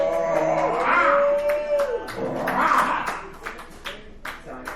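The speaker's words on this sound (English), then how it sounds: "Give another round of applause for Brian Wohl." A dive-bar comedy crowd claps and whoops for comedian Brian Wohl after his set, a dense burst of applause with cheering voices that swells, dips and rises again over several seconds.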